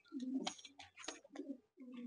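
A loft pigeon being held with its wings spread gives soft, quiet coos in several short bursts with brief pauses between them.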